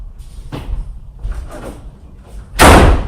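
A door slams hard near the end, a loud sharp bang after a few softer thumps and footsteps as someone runs out.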